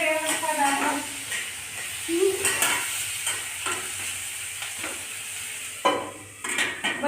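Pumpkin peel frying in a pan in a home kitchen, with a steady sizzle broken by repeated scraping stir strokes, while a voice speaks at times over it.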